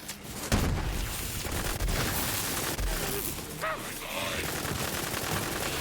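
SMG gunfire in the Borderlands 3 video game, a dense crackling stream of rapid shots with booming impacts over a continuous noisy battle mix, fairly loud and close, with a voice talking under it.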